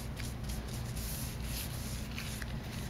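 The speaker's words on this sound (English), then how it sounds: "I'm going along with the grain of the wood in thin," A brush spreading General Finishes gel stain along the wood grain of a cabinet in thin, even coats, heard as a soft, continuous close rubbing swish at low volume.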